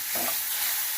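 Onion, scallion and vegetables sizzle in a hot pan for mushroom rice, with a brief scrape of stirring over a steady crackling fry.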